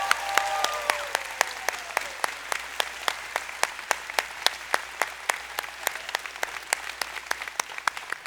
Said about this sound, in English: please give her a round of applause for the job she did this year